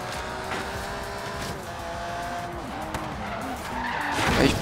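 A Ferrari in the racing game Forza Horizon 3 brakes hard into a corner, tyres skidding and squealing over engine noise, the screech rising and swelling louder toward the end.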